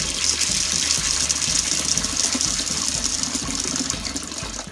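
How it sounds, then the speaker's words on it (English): Water gushes steadily onto beans as they are rinsed for cooking, a continuous loud splashing pour that tapers slightly near the end. "I'm going to wash the beans with some water"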